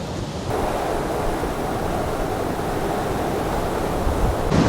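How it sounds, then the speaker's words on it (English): Strong, gusty wind at a seaside resort in Rhodes, a loud dense rush of noise roaring steadily and buffeting close to the microphone without a break, no voices. "the wind is really strong"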